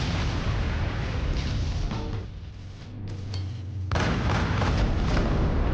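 Missile strike explosions in the space combat game Rebel Galaxy Outlaw, loud rumbling blasts and booming roar, dipping briefly midway before a fresh heavy burst erupts and sustains to the end.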